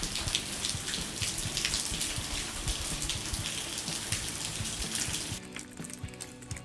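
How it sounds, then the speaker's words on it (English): Water drips and patters steadily inside a bluff shelter on an Arkansas hiking trail, a dense, continuous spatter of drops with no voices. "Lots of dripping."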